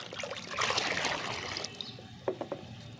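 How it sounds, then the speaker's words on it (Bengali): A mug of banana peel water is poured into a bowl of water, a steady close trickle and splash that fades toward the end, followed by a few soft clinks. "এই এক বাটি জলের মধ্যে এই এক মগ জলটা দিয়ে দেব"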